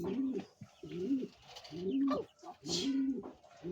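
Pigeons coo in repeated low, throaty bursts, close by, with short pauses between each call.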